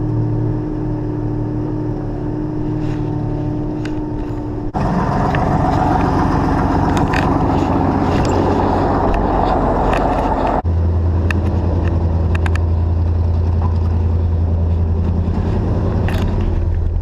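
A car with a draggy clutch when cold runs steadily and close by, its engine drone shifting in pitch twice as the load changes, with a whirring mechanical tone throughout and no talking.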